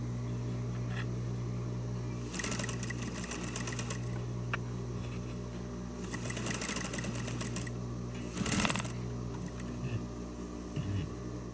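A sewing machine stitches a fabric cosmetic pouch in several short runs of rapid mechanical clatter over a constant low hum, close and moderately loud, with pauses between the bursts.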